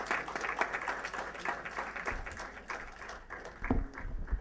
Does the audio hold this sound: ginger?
no